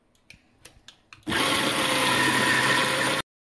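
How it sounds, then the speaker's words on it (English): A blender blitzing an oats laddoo mixture with ghee, starting after a few light taps and running as a loud, steady whirring roar for about two seconds before cutting off abruptly. "Now again I'll give it a blitz"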